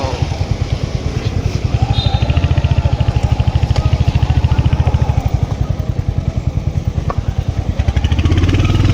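A motorcycle engine throbs loudly and steadily at close range on a night ride in Bhandara, a dense rhythmic chugging that holds nearly even throughout.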